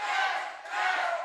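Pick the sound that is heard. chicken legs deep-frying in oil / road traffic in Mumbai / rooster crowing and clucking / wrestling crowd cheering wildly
wrestling crowd cheering wildly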